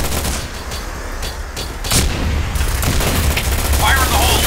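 Dense video game combat, with bursts of gunfire and booming explosions piling up loudly and continuously, a voice speaking over the din.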